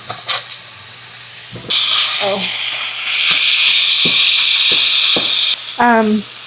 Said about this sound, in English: I need to wash my hands, y'all.